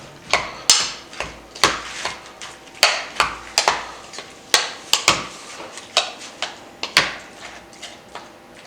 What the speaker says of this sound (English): Now I just gotta crush and mix everything.